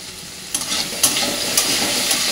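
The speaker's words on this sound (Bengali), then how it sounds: "এর মধ্যে কেটে রাখা কিছু সবজি দিয়ে দেবো। সবজির মধ্যে আছে গাজর, আলু আর বিন আর কড়াইশুঁটি। একটু ভালো করে ভেজে নেব।" Cut carrot, potato, beans and peas frying in a pan, with a steady hiss and sizzle and a few short clanks of stirring spaced about half a second apart.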